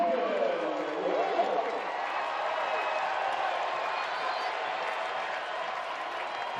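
Louisville Cardinals fans rise to their feet and cheer at a 2019 NCAA baseball tournament game against Illinois State, a sustained wash of applause and crowd noise that holds steady and fades slightly.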